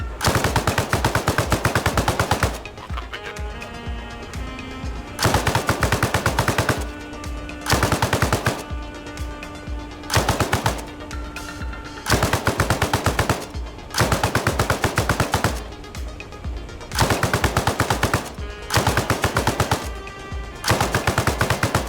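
Loud bursts of machine-gun fire in the military shooter Arma Reforger, long rapid strings of shots broken by short gaps, repeating through the whole stretch with no voices.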